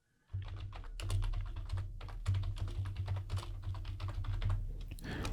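Rapid, close keystrokes on a computer keyboard as a sudo service SSH restart command is typed on a Debian 11 server, a dense clatter running continuously for several seconds with no speech.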